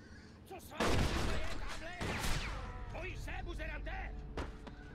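Gunfire in the video game Mafia II, several loud close shots and bursts crackling over a low game rumble, with someone talking over them.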